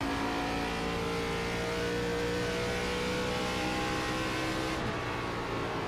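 An ARCA race car in iRacing revs loudly and steadily at Iowa, its engine note holding high and continuous with slight pitch shifts as throttle is fed in gradually, with no voices over it.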